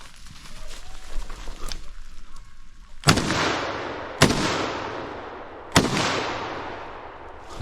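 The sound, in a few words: rifle shot at a roe deer during a hunt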